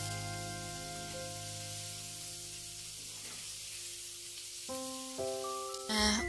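Fritters (gorengan) frying in hot oil for a Banyuwangi nasi tempong meal give off a steady, moderate sizzle beneath sustained tonal background sounds, with brighter crackling bursts near the end.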